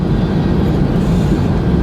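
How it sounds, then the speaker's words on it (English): A train rolls past alongside a car moving at about 55 miles an hour, a loud, steady rumbling roar of wheels and wagons heard close from the moving vehicle, with no talk. "Check it out, folks. We're riding beside the train."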